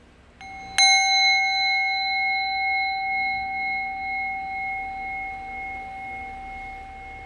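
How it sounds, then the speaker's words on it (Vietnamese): Two finely crafted Japanese bronze bells struck once, giving a bright, clear ring with long sustained tones that hang and slowly fade over several seconds in a quiet room. "Sản phẩm tiếp theo đó là hai cái chuông đồng của Nhật."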